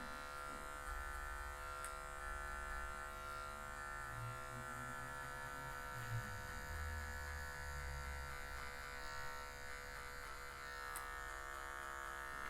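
Electric hair clipper with a number 1 guard cutting afro hair in a low social cut, a steady close buzzing hum running continuously without pause, with no talk over it.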